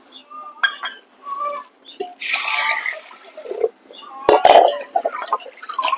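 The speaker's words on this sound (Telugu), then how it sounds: "కందిపప్పు కుండల పోసి శుభ్రంగా రెండు సార్లు కడుక్కొని" Toor dal is rinsed in a clay pot with water, heard as irregular splashing, sloshing and clinking in short bursts close by, with a voice speaking between them.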